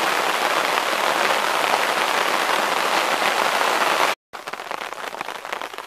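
Heavy rain pouring steadily at a camp, a dense loud hiss of drops hitting surfaces that cuts out briefly near the end before continuing more lightly.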